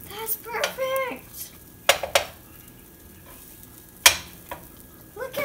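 A pancake flipped in a frying pan at home: a soft sizzle beneath sharp clinks and scrapes of a utensil against the pan, with a few distinct knocks spread across a few seconds.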